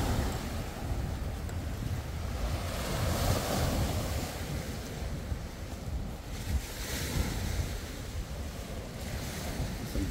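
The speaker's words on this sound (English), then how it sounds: "The waves are pretty big down here too." Big waves crash and wash continuously onto a lake shore at Grimsby, a broad steady surf roar with gusts of wind buffeting the microphone, no voices present.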